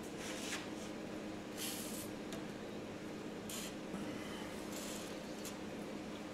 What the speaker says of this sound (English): I'm just gonna put PB Blaster on all the bolts that I can find.